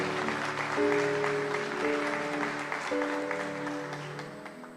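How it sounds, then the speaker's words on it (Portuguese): A church congregation claps along during a service, a steady broadband patter with sustained musical tones running underneath and no talk. "Aplauda o Senhor, você começou aí, não vamos deixar o nosso irmão ou irmã sozinha."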